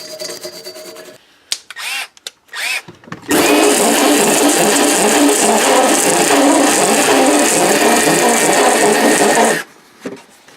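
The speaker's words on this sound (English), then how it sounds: "that's basically just a flap wheel on a drill is all that we have" A flap wheel spun by a drill sands a u-joint on a Chevy Blazer, a loud continuous grinding whir lasting several seconds after a few short starts, then cutting off abruptly.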